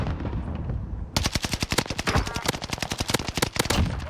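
Rapid automatic gunfire in Call of Duty Vanguard Warzone, a loud close burst of evenly spaced shots starting abruptly after a quiet moment and hammering on steadily to the end.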